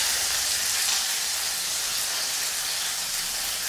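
Onions sizzling with salt in a hot pan, added after garlic has lightly browned, make a steady, dense frying hiss that stays even and close throughout, with no voices.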